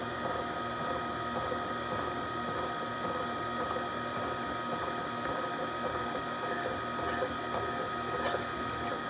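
A juicer machine grinds cilantro with a steady, even mechanical whir, continuous and close, with faint clicks and rattles woven through it.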